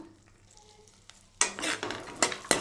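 Cashews frying in melting butter in a kadai: quiet at first, then a loud burst of sizzling and crackling as stirring begins, with several sharp scrapes of a spoon against the pan.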